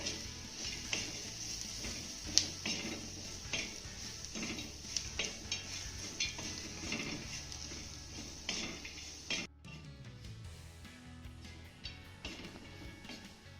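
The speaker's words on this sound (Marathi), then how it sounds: "सर्व साहित्य आपल्याला पुन्हा एक ते दोन मिनिटं चांगलं परतून घ्यायचं आहे" Boiled chillies and roasted peanuts are sautéed in a pan, with a steady soft sizzle and repeated scraping and clinks of a spoon against the pan, close and alone.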